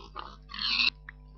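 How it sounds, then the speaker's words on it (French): A pig in the Minecraft video game gives a short grunting oink, a brief burst followed by a faint second blip, alone with no talk. "Un cochon."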